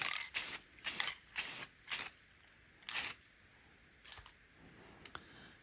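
Clear spray paint hisses from an aerosol can onto rustic primitive Christmas decor in several short bursts, then a couple of fainter sprays, with no talking.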